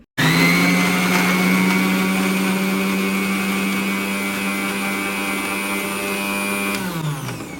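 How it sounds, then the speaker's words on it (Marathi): A mixer grinder whirs loud and close as it grinds ginger and garlic to a paste, a steady high whine from start to finish that winds down at the end. "आपल्याला छानपैकी एकदम बारीक असं मिश्रण मिक्सरमध्ये वाटून घ्यायचं आहे"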